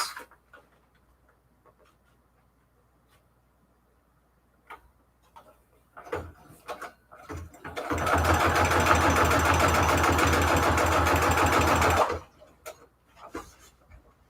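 A sewing machine runs in a steady, loud burst of rapid stitching for about four seconds, with quieter handling clicks and taps before and after.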